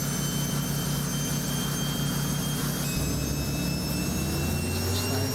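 A modded Battle Truck engine in American Truck Simulator, starting up and settling into a loud, steady low drone. The engine revs with a rising whine partway through, and no one speaks.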